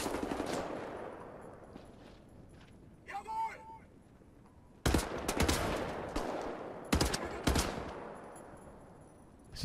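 Gunfire in the video game Wolfenstein The New Order, with several sharp bursts of shots in short clusters separated by quieter stretches.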